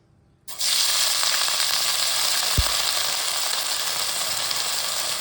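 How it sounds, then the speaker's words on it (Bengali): Leftover potato pieces dropped into hot oil, setting off a sudden loud, steady sizzle that starts after a brief silence and continues close and unbroken, with one low thump near the middle. "সেই আলুটা আমরা তেলে ভাজতে দিয়ে দেব।"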